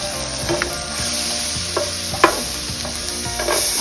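Chopped garlic frying in butter for a creamy pasta, a steady close sizzle with repeated scraping stirs of a utensil against the pan, one sharper knock near the middle.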